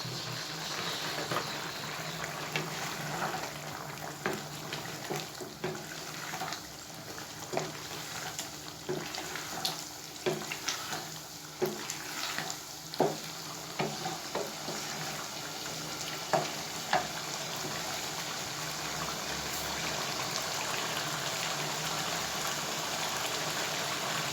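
A tomato and onion gravy for chicken karahi cooks in oil with a soft, continuous sizzle and bubbling, broken by scattered scraping stirs and clicks, heard fairly close and quiet.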